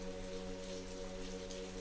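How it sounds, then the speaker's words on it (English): Soft, steady rain patters on the pavement of a rain-soaked New York City street, a faint and even hiss with no voices. "The pitter-patter of raindrops hitting the pavement"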